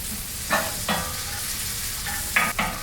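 Diced shallots frying with butter, oil and mushrooms in a pan on a drum smoker, a steady hissing sizzle broken by a few brief scraping strokes of stirring.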